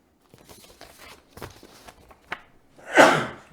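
A single sharp sneeze bursts out near the end, following a few quiet shuffles and small noises in a town selectmen's meeting room.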